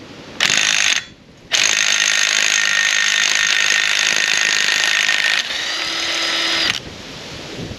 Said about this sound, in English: It should go pretty easily with an impact gun.